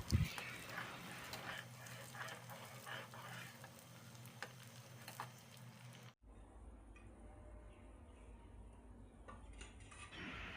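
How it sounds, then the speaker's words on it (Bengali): Sugar for mango pickle is stirred in a pan until it melts, giving a soft continuous frying hiss with light scraping. The sound cuts off sharply partway through, and a quieter, duller hiss follows. "এবার নেড়ে চেড়ে যাব চিনিটা গলে যাওয়ার আগ পর্যন্ত"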